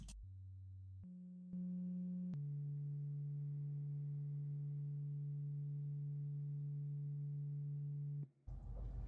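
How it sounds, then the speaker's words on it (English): A steady low electronic hum of subwoofer bass fluttering in a Honda or Acura while the audio system reboots, with stepped pitch changes early on, then one sustained droning tone for several seconds before cutting off abruptly. "bass fluttering that's going on in the car while the system is rebooting"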